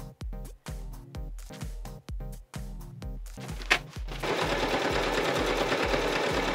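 Sewing machine stitching a circle skirt: short, evenly spaced bursts of stitching with brief pauses, then a longer continuous run with a brighter, noisier whir, heard close up with no voices.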